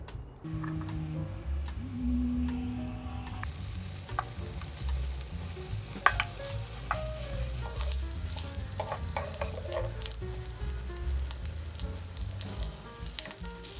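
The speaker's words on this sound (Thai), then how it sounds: "แล้วก็เอาแฮมลงไปผัดก่อนค่ะ" Continuous sizzling and scraping of ham being stir-fried in a hot Teflon pan, close up, with irregular clinks of a spatula and no talking.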